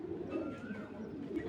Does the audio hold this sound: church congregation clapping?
no